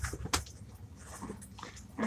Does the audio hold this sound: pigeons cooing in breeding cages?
no